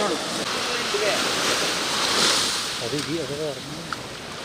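Rough sea and wind on the coast at Beypore, where a fishing boat broke up in heavy waves and rain, make a steady roaring wash throughout while people talk over it.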